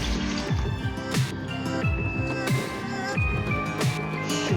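Coconut milk pours over rice in a rice cooker, a close, continuous liquid splashing and glugging with small drips throughout.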